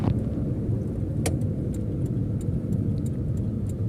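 A car drives at night with the clutch released and only the accelerator pressed, giving a steady, close engine and road hum with faint, regular ticking clicks on top.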